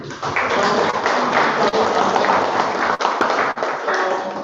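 Applause rises from the audience at the close of a guest university lecture: dense, sustained clapping of fairly even loudness, with a couple of brief dips, and no talk over it.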